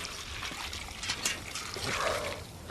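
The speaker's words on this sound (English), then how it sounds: "Then we sprinkle a little bit of straw, adding some water." Water poured onto straw laid in a freshly dug trench for mud mixing, a close, steady splashing trickle that swells and fades over a couple of seconds with no talk.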